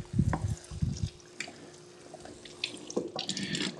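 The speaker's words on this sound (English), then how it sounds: "give it a quick rinse to rinse all that bean juice off and let it drain for a minute" Running tap water splashes into a kitchen sink as canned black beans are rinsed and drained, coming in short gushes with dripping and trickling between them.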